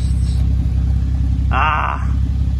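Hyundai Genesis Coupe fitted with Ark downpipes idling steadily, its exhaust drone close and constant, with a brief higher tonal whine rising over it near the end.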